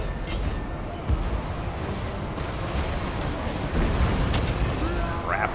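A Hell Cannon fires artillery in a Total War: Warhammer battle, its booms landing among dense, continuous battle noise, with a voice speaking over the clamour.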